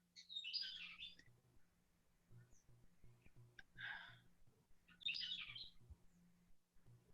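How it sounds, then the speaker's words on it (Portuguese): Several bursts of songbird chirping and twittering, fairly faint and in the background, recur across the span with quiet gaps between them alongside a low steady hum. "eu só estou ouvindo uma orquestra de passarinhos linda de fundo"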